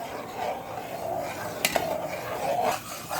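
A spoon scrapes and stirs melting sugar in a pot while homemade soy sauce is being made, producing soft, continuous rasping metal-on-pot sounds with a couple of brief clinks, close and fairly quiet.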